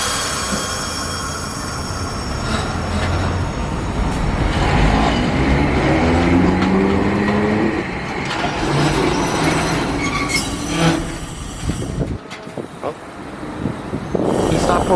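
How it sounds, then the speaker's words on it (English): A tram pulls away with rising, squealing wheels on the rails and rumbling clatter, loud and close, with people talking faintly underneath. "And the tram's leaving."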